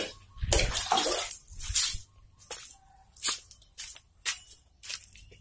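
Water is poured out for mixing into fish bait pellets, splashing and sloshing in several short bursts with quiet gaps between them, fairly close and alone.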